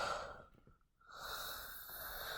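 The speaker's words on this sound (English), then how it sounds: "Sorry, I keep yawning." A person yawns once, a long breathy exhale that dips briefly into near silence before the drawn-out stretch resumes, quiet and close.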